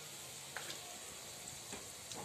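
Chili, curry leaves and garlic fry quietly in a pan as a soft, constant sizzle, with a few faint stirring scrapes and no voices.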